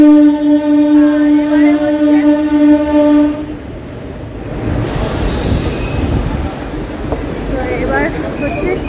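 A suburban train at Dum Dum station in Kolkata sounds a sustained horn blast, then gives way to loud rolling rumble and wheel noise, close by and continuous.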